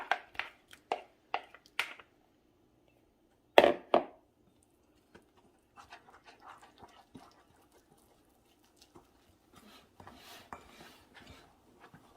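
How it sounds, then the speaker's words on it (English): Wet ingredients being mixed into dry for a lemon cookie batter in a bowl: faint, intermittent scraping and soft clinks of a utensil, with a few sharper knocks early on and quiet gaps between strokes. "Then we're going to mix the wet into the dry."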